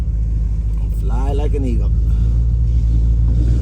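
A 1969 Pontiac Firebird engine idling close by, a heavy steady low rumble throughout, with a voice singing a short line briefly over it.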